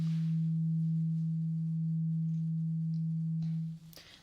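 Hearing test tone in an ear exam setting: a single steady low pure tone held for about three and a half seconds, loud and close, then cut off, followed by faint soft rustling.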